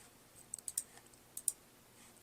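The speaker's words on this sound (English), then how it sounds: "I'm clicking on this box up here to change the color." A computer mouse gives several sharp, light clicks while a design tool is used, a quick pair early on and another pair a little later, close up, crisp and isolated against a quiet background.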